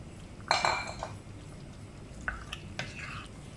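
A spoon clinks against a pot while boneless chicken black pepper karahi is stirred, a sharp burst of scraping and clatter followed by a few lighter taps.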